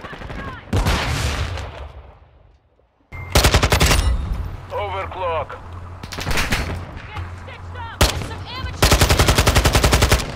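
Rapid bursts of automatic gunfire in a first-person shooter video game, loud and close, separated by brief pauses, with a short spoken word over the shots.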